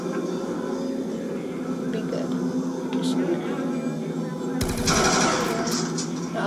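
A gun firing red bullets in the Black Ops 2 Zombies video game, heard as steady rapid automatic fire through a dense game soundscape, with a sharper, louder burst near the end while a player talks over it.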